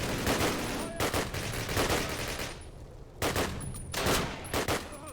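Dense gunfire in a Call of Duty bridge-defence mission, rapid automatic bursts and single shots crowding together loudly and close for the whole stretch, with brief lulls between volleys.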